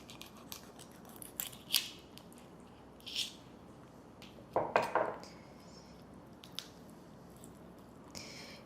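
Kitchen scissors cut into a large prawn to open it up for Sang Har prawn noodles, making a handful of close, crisp snips and crunchy squishes in irregular bursts, with no speech.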